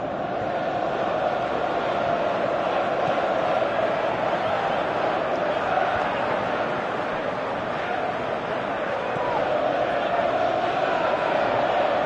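Stadium crowd in the football video game PES 2018 keeps up a steady, dense roar from start to finish, with no clear peaks or breaks.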